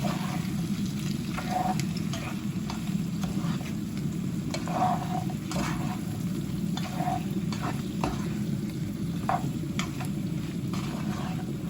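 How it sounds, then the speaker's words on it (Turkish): Spoon stirring a celery dish with peppers, leeks and chickpeas in a pan, soft regular scraping strokes over a constant low sizzle from the cooking. "Şöyle bir karıştırıyorum."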